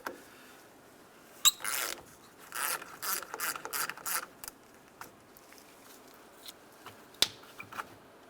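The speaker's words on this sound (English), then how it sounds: "We're just going to loosen it up enough to get that terminal to spin and pull right off." Wrench ratcheting to loosen the battery terminals on a 1992-1996 Ford F-150, a close run of quick metallic clicks in bursts, then a few isolated clanks in a quiet setting.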